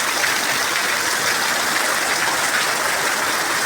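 Steady rain pours down in a village, a dense even hiss of falling water that stays loud and unbroken throughout, with no voices.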